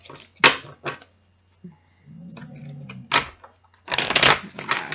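Bursts of riffling and slapping tarot cards, several separate shuffles with quiet gaps between, close and crisp.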